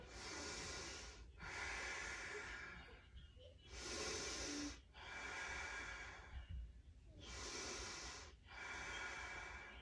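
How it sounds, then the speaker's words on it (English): Slow, deep yoga breathing, close and clear: six long breaths alternating inhale and exhale, each lasting over a second, with brief pauses between. "Deep breath in. Deep breath out. So try to slow down and lengthen your breath."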